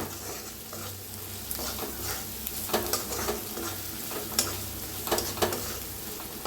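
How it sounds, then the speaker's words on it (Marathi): Spice masala roasting in a pan for a brinjal dish, an even sizzling crackle with occasional scraping stirs and clicks of a spatula, close and unaccompanied by voices. "आता भाजून घेऊया मसाला सगळा"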